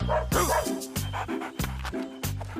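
A dog barks in a quick series of sharp, close yips and bow-wows, four or five in a row with brief gaps between.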